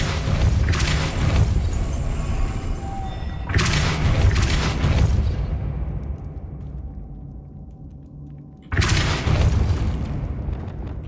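The Depulso force spell from the Hogwarts Legacy video game, cast as loud, heavy booming bursts, each rumbling for a couple of seconds and fading, followed after a quieter stretch by another deep blast.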